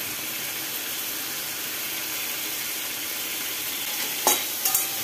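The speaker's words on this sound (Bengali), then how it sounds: "আদাটা দিয়ে টমেটোর সাথে ভালো করে কষিয়ে নেব" Grated ginger and tomato for a pumpkin sabzi cook in a pan with a continuous soft sizzle, then a few sharp scrapes and clinks of a spatula near the end. No voices.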